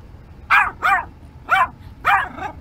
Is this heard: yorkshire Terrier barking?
yes